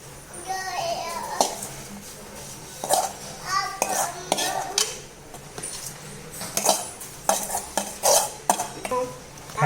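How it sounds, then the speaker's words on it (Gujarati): Spice tempering stirred into potato paste in a pan: repeated clattering scrapes and clinks of a spoon against metal in irregular bursts, close and fairly loud, with a voice briefly in the background. "ચાલો હવે બટેટાની પેસ્ટમાં આપણે મસાલાનો તડકો મારીશું."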